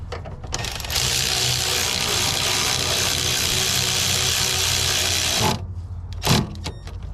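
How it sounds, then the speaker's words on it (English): A ratchet tightens a suspension bolt on a Honda EF sedan with a K20 engine, giving a rapid, continuous clicking run of several seconds. A few short separate clicks and a bump of metal follow. "and we just gotta tighten it down"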